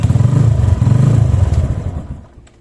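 A 125cc motorcycle engine, started from a lithium battery self-start, runs with a loud, steady low throb that then winds down and fades away toward the end.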